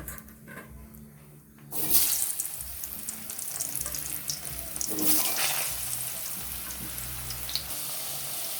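Potatoes slide into hot oil already seasoned with bay leaf and whole cumin, for a pointed gourd and potato kosha; after a near-silent start, a sudden sizzling hiss bursts up and holds steady throughout.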